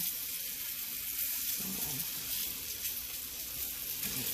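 Pork chops browning in a hot pan give off a steady, fine crackling sizzle, continuous and moderately close, with a slight swell of spattering partway through and no talking.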